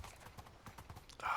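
Horse hooves clip-clop in an evenly spaced run of soft thuds in Minecraft, close and moderately loud, with a brighter burst of game sound near the end.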